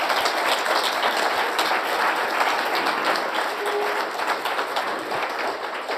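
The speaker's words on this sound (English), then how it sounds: "I think this has already deserved some applause." Audience at a farewell reception and landscape architecture book presentation breaks into sustained, dense applause, a loud wash of clapping holding steady for several seconds and easing slightly toward the end.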